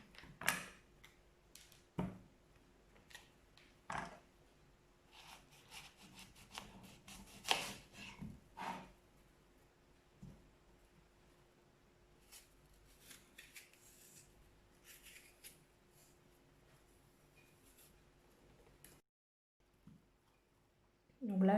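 A knife cuts apples for an Alsatian tart, making sparse, irregular sharp taps and slicing clicks against a board, faint and close, with quiet stretches and a brief silent gap between cuts.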